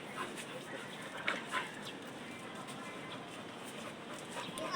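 A dog at a training session makes soft whimpers and short yips over a quiet, steady background, with a few brief louder bursts and faint voices.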